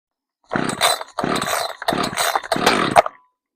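An Echo CS-590 chainsaw gets four quick pull-start tugs, each a loud, close rasping sputter of about half a second with short gaps between, the last ending in a brief catch before going quiet.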